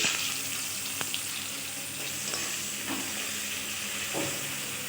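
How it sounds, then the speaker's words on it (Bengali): Chopped onion frying in hot oil in a wok with radhuni seeds and dried red chilli, a dense steady sizzle close up, with occasional light clicks of stirring and no talking. "এবার ফোড়ন হিসাবে দিয়ে দিচ্ছি রাঁধুনি আর শুকনো লঙ্কা দিয়ে দিচ্ছি পেঁয়াজ কুচি"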